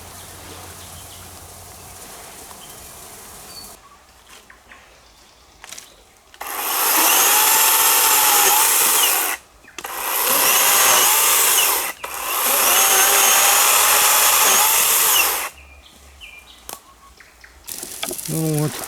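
Wood being sawn at a campfire on a fishing trip, three loud sustained bursts of harsh rasping cutting noise separated by short pauses, with quieter outdoor sounds before and after.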